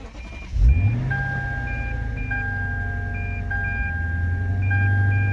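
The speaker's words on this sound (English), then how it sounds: "now I'm gonna try to start the car" A Lexus/Toyota engine cranks briefly and fires after ECU and key programming, then settles into a steady, close idle while regularly repeating warning chimes ring throughout.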